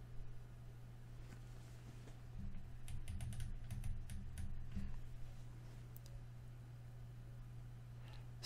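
A computer keyboard in quiet surroundings gives faint, soft key clicks, in a brief run of several rapid taps mid-way and a few scattered presses, over a steady low hum.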